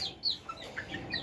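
Young Fayoumi chickens, about three months old, chirp and cluck in quick, faint, high-pitched peeps close by, several short calls in about a second.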